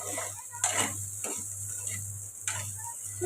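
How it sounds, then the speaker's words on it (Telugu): Raw banana pieces frying in a pan with turmeric and salt give a continuous soft sizzle, broken by a few scraping stirs of a spoon against the pan at irregular intervals, heard close up. "ఇప్పుడైతే ఇలా కలుపుతూ మనము ఫ్రై అయితే చేసుకోవాలండి"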